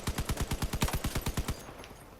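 Automatic gunfire from a vehicle-mounted gun in the combat game Crossout, a burst of about fourteen evenly spaced rapid shots that stops abruptly, leaving a faint hum.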